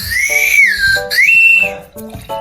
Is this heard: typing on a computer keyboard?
no